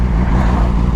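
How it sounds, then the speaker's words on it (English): A Suzuki GSX-R 750 motorcycle with a loud aftermarket exhaust on a busy morning road, a brief, heavy, booming engine drone with a deep rumbling low end, loud and close. "I'm out and about hooning around on a very loud GSXR 750."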